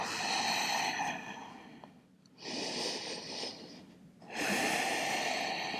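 Slow, deep yoga breaths drawn and released near the microphone, a long airy exhale followed by a short pause, then another full inhale and exhale, heard alone without talk.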